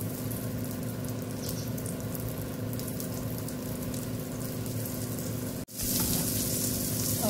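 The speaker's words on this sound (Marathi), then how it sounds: "छानपैकी आपल्याला भेंडी भाजून घ्यायची आहे तेलामध्ये" Okra fries in a little hot oil in a pan, a steady broadband sizzle that holds for several seconds, drops out for a moment and then returns slightly louder.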